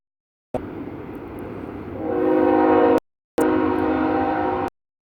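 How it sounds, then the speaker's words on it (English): A train passes close by, its horn blaring in long sustained tones over a loud rolling rumble that swells, cuts out briefly, then resumes at full strength before stopping abruptly. No one speaks. "And apparently there's a train."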